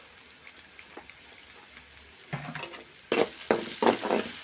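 Garam masala and chili powder frying in a pan for egg pasta, a quiet sizzle that swells into louder crackling bursts and scraping stirs in the second half; no talking.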